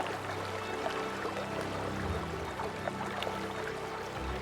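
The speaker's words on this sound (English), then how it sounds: "Underwater, the river is still flowing vigorously." A river flowing vigorously beneath a layer of winter ice, heard as a steady, dense underwater rush with low rumbling surges and no voices.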